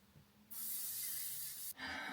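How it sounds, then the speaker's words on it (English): Hairspray from an aerosol can hisses onto hair in one close, steady burst lasting just over a second, then a second spray begins right after. "I'm just going to put a bit of hairspray in."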